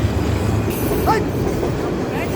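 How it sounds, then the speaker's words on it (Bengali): A long freight train rumbles steadily past at close range on a railway line, with a continuous low roar and a brief metallic wheel squeal partway through. "এটা বড় মালগাড়ি, বড় মালগাড়ি, অনেক লম্বা গাড়ি"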